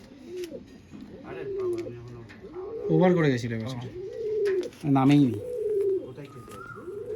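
Pigeons in a loft at a tournament-winning fancier's home in Barasat give several deep, rolling coos at close range, interleaved with people chatting.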